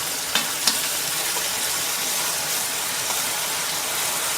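Crushed onion frying in hot oil in a pan, a steady close sizzle with a couple of brief crackling pops near the start, continuing evenly throughout.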